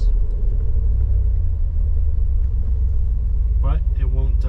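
A Jeep with an automatic transmission runs with a steady, deep engine rumble as it holds first gear and then shifts. A brief voice-like sound enters near the end.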